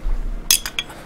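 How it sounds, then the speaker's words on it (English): Beer bottle opened with a bottle opener indoors, a few quick metallic clinks and a sharp tick close by, spaced over about half a second against a quiet hum. "I'm going to have to open a beer in your honor. Let me get my beer opener."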